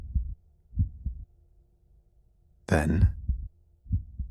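A deep heartbeat sound effect in a Planescape: Torment audio drama thumps in slow, steady pairs, with a narrator speaking briefly in the middle.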